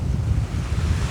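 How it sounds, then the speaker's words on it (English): Waves washing against the shore at Mostyn, a steady close rushing whoosh of water mixed with heavy wind buffeting the microphone, no voices. "you hear all this water whooshing about"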